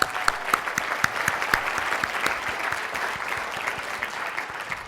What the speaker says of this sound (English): could we have a round of applause for our sponsors?